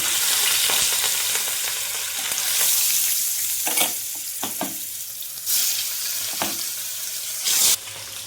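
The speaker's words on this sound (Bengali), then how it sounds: "তেলটা আমার গরম হয়ে গেছে আমি এবার মাছটা দিয়ে দেবো" Hot oil sizzles and crackles steadily as rohu fish fries, close up, with occasional scraping and clinks of a utensil stirring the pan.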